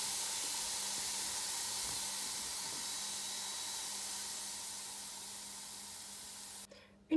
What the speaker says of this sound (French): Le mélange est porté à ébullition.